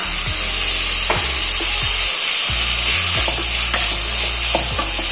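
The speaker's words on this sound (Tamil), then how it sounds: "சேர்த்துனதுக்கப்புறம் நல்லா இதே மாதிரி வதக்கி விட்டுக்கலாம்" Onions and curry leaves sautéing in coconut oil for a Kerala karimeen fish polichathu, giving a steady close sizzle with rhythmic scrapes of stirring that recur every second or so, and no voices.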